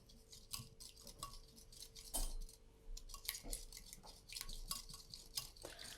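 A spoon scrapes and clinks steadily against a bowl as beaten egg and vegetables are stirred together with salt and black pepper, soft and close with no talking.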